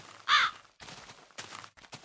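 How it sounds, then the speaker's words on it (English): A raven in the Minecraft video game gives a single loud, harsh caw near the start, followed by quieter game ambience and soft background sounds. "That's a fucking raven, isn't it?"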